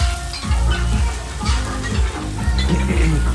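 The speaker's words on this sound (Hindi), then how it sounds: "भाई मैगी बन रही है अपनी भाई टमाटर डाल दिए क्या तो मैगी में" Maggi noodles with tomatoes sizzle and fry loudly in a pan, a steady close crackle with periodic stirring scrapes throughout.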